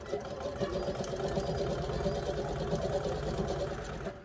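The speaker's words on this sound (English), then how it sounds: "this sewing machine is lighter too because it is a quilting machine" A quilting sewing machine stitches steadily, its rapid mechanical whir running continuously at close range for a few seconds.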